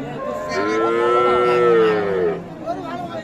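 A single long, loud moo from a young dairy cow at a cattle market, rising and falling over about two seconds, close by, with faint background murmur.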